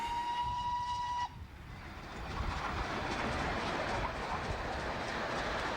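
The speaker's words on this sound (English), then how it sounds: "here's the same train but going backwards like in the last video" Train in old archive film footage: a sustained whistle tone sounds for about a second, then gives way to a steady, loud rolling rumble that continues to the end, with no talking.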